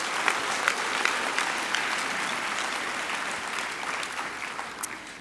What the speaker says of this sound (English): let's give Mr. von Ziener another round of applause.